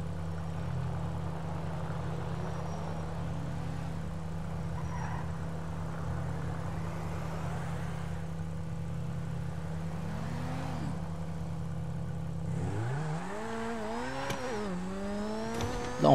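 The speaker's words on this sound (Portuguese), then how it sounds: "Dá um rolezinho de carro aqui de leve já." A car engine in GTA hums at a steady, loud drone for about twelve seconds, then revs up and down in rising and falling pulls near the end, with no talking.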